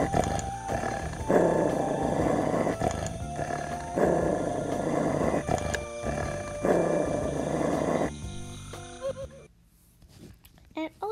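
A horse growl emote from the Roblox game Horse World plays three times: rumbling, roaring growls in regular bursts over steady game background music, then fading into quieter sounds.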